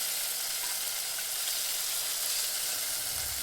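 Eggs coated in masala fry in a pan for biryani, giving a constant, fairly soft hiss of sizzling oil close by, with no one speaking.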